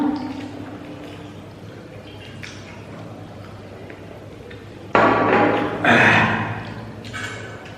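Water poured from a jug at a home meal table with fish curry and rice: a quiet room, then a sudden loud splashing stream for about three seconds that briefly dips and swells again.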